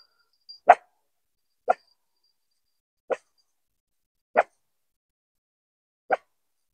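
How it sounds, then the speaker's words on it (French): Five short, sharp dog barks ring out one at a time at irregular intervals about a second or more apart, each clipped and isolated against near silence, sounding somewhat distant. "les chiens ont aboyé"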